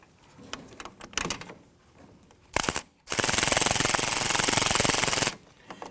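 Impact wrench snugging the wheel hub bolts on a 2017-2020 Hyundai Elantra during a front wheel bearing and hub replacement, heard as a short loud burst and then a sustained loud rattling hammer of about two seconds, after some quieter handling noises.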